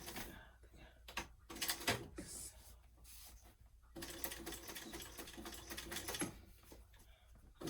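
A sewing machine bastes a travel bag seam at a narrow allowance, running in several short bursts, louder near the middle, with brief pauses and handling noises between.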